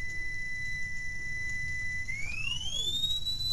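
A steady pure 2000 Hz electronic test tone holds on one pitch, then sweeps upward into a higher whine over faint background hiss.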